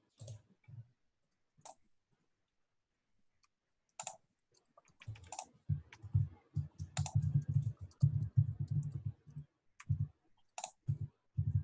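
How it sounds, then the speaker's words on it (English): Quiet, scattered mouse and keyboard clicks at a computer, sparse at first and then busier, with soft low thumps mixed in; no one speaks. "We're just quietly clicking on things."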